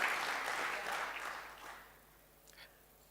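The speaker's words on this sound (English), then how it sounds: "It's a good time to clap for sponsors." Audience applause for sponsors at a business event, a burst of clapping that is strongest at the start and fades out within two seconds, followed by near silence and a couple of faint sounds.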